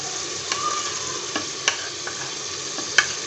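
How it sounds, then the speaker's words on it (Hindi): Tomatoes frying with masala in a pan, a steady close sizzle with occasional spoon scrapes and taps from stirring; no voices. "टमाटर जो है उनको हम भून लेंगे"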